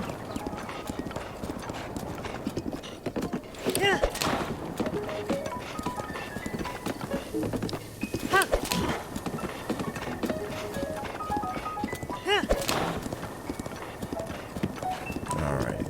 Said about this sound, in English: So this is horse riding.